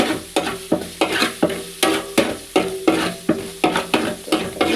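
Ginger and garlic fry in a pan for a beef curry while a spoon stirs them in a steady rhythm, about a dozen close scraping strokes over a continuous sizzle, with no talking.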